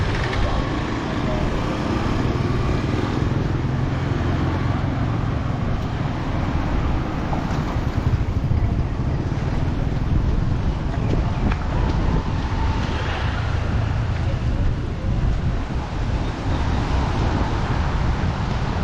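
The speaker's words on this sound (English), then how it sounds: "Yeah, so windy here." Strong wind buffets the microphone at Ao Nang beach in Krabi, Thailand, a steady loud roaring rumble with faint traffic behind it throughout.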